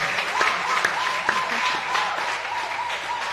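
An audience at a Ghanaian TV talent show breaks into steady applause, a dense wash of clapping with a few sharp claps standing out, loud and continuous throughout.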